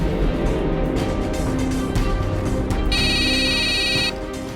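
An electronic phone ringtone chimes for about a second over a busy, noisy background, cutting off abruptly.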